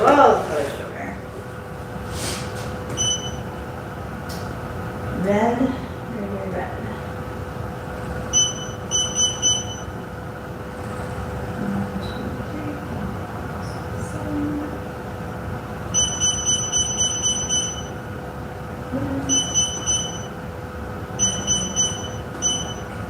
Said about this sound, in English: Lots of beeping, sorry.